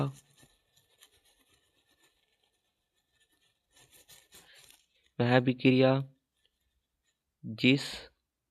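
Pen or chalk scratching and tapping as a chemical reaction is written out during a school lesson, brief rasping strokes and clicks separated by silence, with a teacher's voice speaking in two short bursts.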